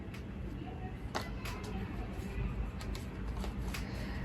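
A deck of tarot cards is shuffled up close, giving soft, rapid papery flicks and a few sharper snaps over a low background.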